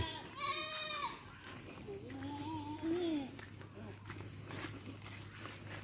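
Goats bleat a few times on a farm, a wavering cry early and lower calls after, over a steady insect hum and faint background noise.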